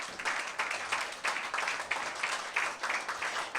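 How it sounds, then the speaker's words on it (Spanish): A church congregation claps in a steady rhythmic beat during a worship service, the sound faint and distant, with regular pulses roughly every two-thirds of a second. "Den un aplauso al Señor."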